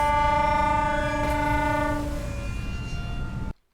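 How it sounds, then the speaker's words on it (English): A fishing boat's horn on the North Atlantic sounds a loud, sustained tonal blast for over three seconds, with a low engine rumble underneath before it cuts off. "I'll honk twice."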